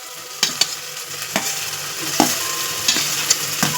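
Masala for tomato bath stirred and fried in a pan, a steady close sizzle broken by repeated sharp scraping strokes of a spoon against the pan every second or so, with no voices.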